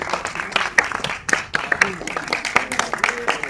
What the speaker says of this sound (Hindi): अब मैं चाहूंगी एक बार हमारे डायरेक्टर सर के लिए जोरदार तालियां हो जाए।